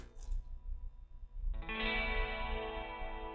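A strummed guitar chord drenched in reverb blooms in after a brief pause, its sustained shimmer hanging fairly loud and smooth while fading slowly, heard on its own with no voices.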